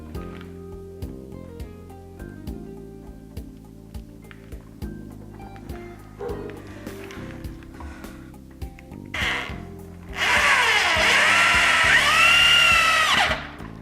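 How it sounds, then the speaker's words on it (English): A power drill drives screws into pocket holes while a clamped CNC enclosure is assembled. Scattered light handling noises come first, then the drill whirs loudly and steadily for about three seconds, close up. "These clamps will hold it in place, and we'll run some screws in here."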